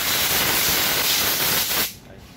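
High-pressure spray washing the clutch of a Yamaha Sirius 50 motorbike in a repair shop: a loud, steady broadband hiss that runs for about two seconds, then cuts off abruptly, leaving only faint room noise.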